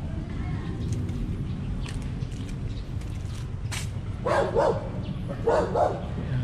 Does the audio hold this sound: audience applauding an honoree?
no